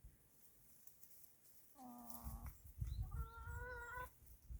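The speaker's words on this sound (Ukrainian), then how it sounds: "Щось там розмовляють на своїй курячій мові" Chickens cluck and murmur nearby in two short bursts of drawn-out calls over a low rustling background, fairly quiet.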